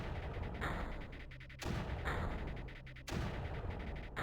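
Mortar fire in the strategy game Creeper World, a few heavy, booming, noisy blasts spaced about a second and a half apart, each trailing into a dense rumble.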